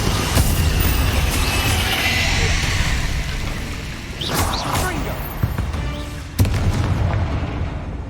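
Spell explosions of Bombarda and Confringo in the Hogwarts Legacy video game: a few booming bursts that stand out above a steady game backdrop of rumble and ambience, with the sharpest blasts coming near the start and again late in the sequence.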